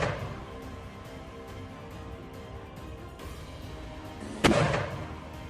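A single loud rocket launch by Al Qassam fighters outdoors in Gaza, a sudden blast that fades out over a second, following several seconds of low ambient rumble.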